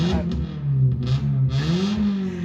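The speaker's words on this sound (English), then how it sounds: "Excuse the loud car behind me." A car engine revs loudly close by in a driveway, its pitch rising and falling in several surges.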